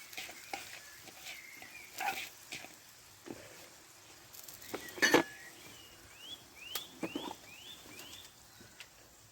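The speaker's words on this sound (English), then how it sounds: "Whoa, that's sizzling." Onions, garlic and peppers frying in a pan over a wood-burning stove inside a teepee hot tent, with soft sizzling under scattered clinks, stirring scrapes and a few sharp knocks.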